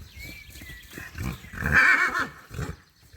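A mare whinnies up close, a loud, shaky neigh that rises and trembles before fading into snorting breaths.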